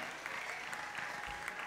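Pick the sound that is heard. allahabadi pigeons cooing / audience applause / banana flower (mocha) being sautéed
audience applause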